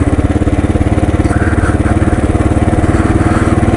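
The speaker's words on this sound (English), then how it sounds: "So if we're riding this road right now, would you sooner have the KLR or the 1200 GS?" A Kawasaki KLR motorcycle rides along a road, its single-cylinder engine giving a loud, steady, rapid thumping pulse close by, with wind noise over it and no speech.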